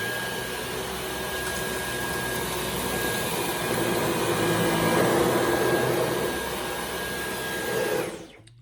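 A Dyson V12 Plus cordless vacuum runs on boost mode over carpet with a steady, loud high-pitched whine and airy roar for about eight seconds, then cuts off abruptly at the end.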